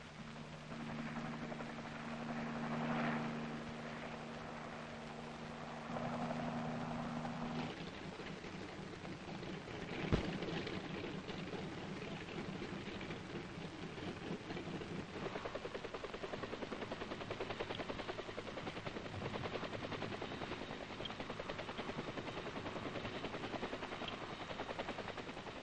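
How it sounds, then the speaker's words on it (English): H-21 troop-carrier helicopters lift off in a steady, continuous rotor and engine drone that holds for the full stretch at a fairly distant, moderate level, with a brief thump partway through. "Then the troop carriers take off, well in advance of the H-21 group following."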